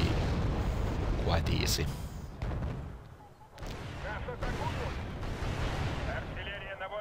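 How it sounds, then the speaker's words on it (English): Booming explosions and gunfire from anti-tank missiles and guns hitting enemy armor in a Polish-themed war strategy video game, a steady rumbling battle din with someone talking over it. "I have lots of ATGMs and guns firing on the enemy armor."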